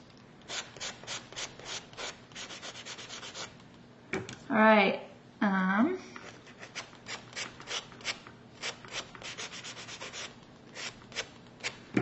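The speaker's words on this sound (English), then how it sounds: "you're just sanding the paper so that it blends in a bit to the wood" Repeated rubbing strokes of sandpaper scraping across a wooden Scrabble tile in a steady back-and-forth rhythm, with a short spoken remark partway through.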